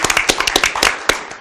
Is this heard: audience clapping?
yes